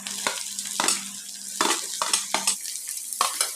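Garlic and onion sizzle in hot oil that was first tempered with mustard seeds and cumin, for pav bhaji. A spoon scrapes and stirs the pan in several distinct strokes over a steady fry.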